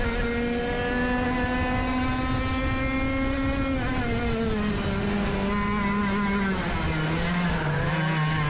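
Shifter karts scream down a racetrack straightaway, their high-revving engines dropping slowly in pitch as they pull away. The sound is loud and continuous, with no talk.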